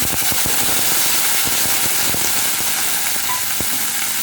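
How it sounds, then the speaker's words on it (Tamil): Bottle gourd sautéing in groundnut oil gives a loud, dense sizzle with repeated scraping stirs of a utensil against the pan, steady and close throughout, with no talking. "இப்போ வந்து இதில் வந்து நம்ம இந்த சுரக்காய் வதக்கணும்"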